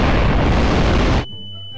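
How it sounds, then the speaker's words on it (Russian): A loud, sustained explosion roar in Garry's Mod that cuts off abruptly, leaving a faint tonal hum afterward. "О, сейчас будет мега взрыв."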